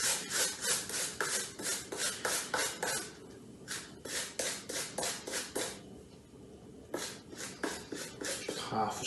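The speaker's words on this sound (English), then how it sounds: "So we're just grating some fresh ginger in." Fresh ginger is grated by hand for a butter chicken curry, making quiet, rhythmic rasping strokes at a steady back-and-forth pace with a few brief pauses between runs.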